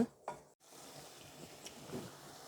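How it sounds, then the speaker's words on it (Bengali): Eggplant sautéing in a pan for a Bengali vegetable curry, with a soft, steady sizzle and a few light stirring scrapes and clinks after an opening knock. "এখন বেগুনটা দুই তিন মিনিটের মতো একটু কষিয়ে নেব"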